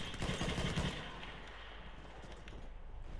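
Gunfire in the game Battlefield 1, a rattling burst of shots up front that fades into quieter, more distant firing and battle rumble.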